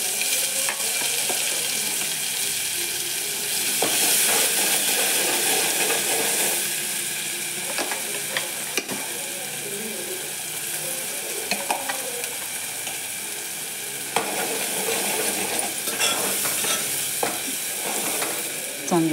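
Ground masala paste for a fish curry fries in hot oil with a dense, steady sizzle, stirred now and then with light scraping and clicks, close and without talk.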